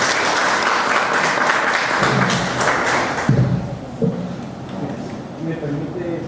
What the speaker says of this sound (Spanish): y para quien pido también un fuerte aplauso